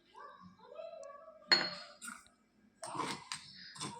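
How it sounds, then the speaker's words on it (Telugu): A spoon stirs crushed garlic and cumin in a bowl, making a few quiet clinks and scrapes against the sides, in short bursts separated by near silence. "ఒకసారి స్పూన్ తీసుకొని అంతా కలుపుకుందాము."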